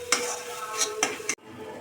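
A spatula stirs spiced fish filling with turmeric and Kashmiri chili powder in a pan, giving several close scraping clatters with a light background sizzle before the stirring abruptly stops.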